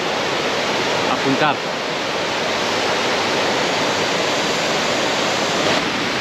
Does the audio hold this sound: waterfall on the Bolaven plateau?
yes